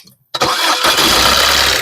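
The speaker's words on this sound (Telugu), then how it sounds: "సింగిల్ సెల్ఫ్ లో కార్ స్టార్ట్ అవుతుంది" A 2015 Maruti Suzuki Ciaz VDI diesel car engine cranks briefly and catches on the first try, then settles into a steady, close idle rumble.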